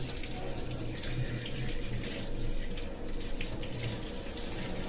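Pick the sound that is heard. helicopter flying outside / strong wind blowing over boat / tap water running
tap water running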